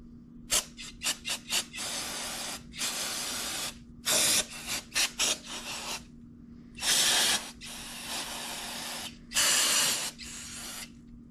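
Brake cleaner sprayed onto an old aluminum intake manifold from a Chevelle SS454, with repeated short hissing bursts and several longer sustained sprays, loud and close, over a steady background hum.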